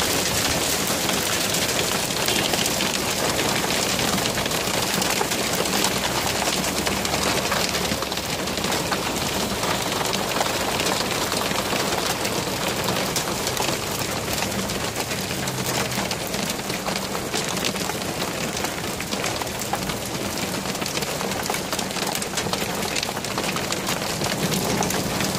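Hail falling hard on the ground outdoors makes a dense, continuous, loud patter that stays steady throughout, with no talk over it.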